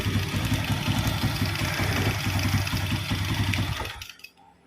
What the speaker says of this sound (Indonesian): kita coba gas full ya, saya coba buka